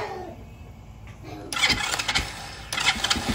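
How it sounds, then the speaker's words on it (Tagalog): A cold Rusi Smart 110 motorcycle engine cranks briefly and catches, giving a few sputtering bursts after a quiet start, close and fairly faint, with no voices. "malamig pa yung makina. Pero magiging one click start na tayo niyan"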